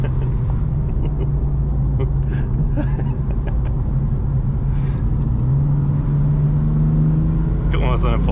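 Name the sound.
Lamborghini and Porsche driving at high speed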